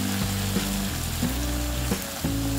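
Green eggplant baingan sabzi sizzles and fries steadily in a pan, loud and close, with a few soft stirring scrapes over the constant crackle.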